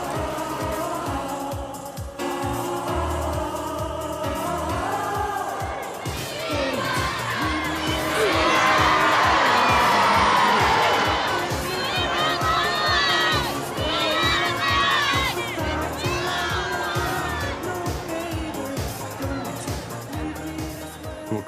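A large crowd cheers and shouts for Princess Diana, a dense roar of voices and excited calls that swells to a loud peak midway before easing, with some talk mixed in.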